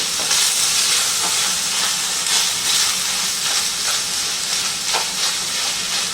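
Moo shu pork frying in a pan as hoisin sauce is stirred in: a loud, steady, steamy hiss and sizzle with faint scraping strokes from the stirring, close up and with no talking.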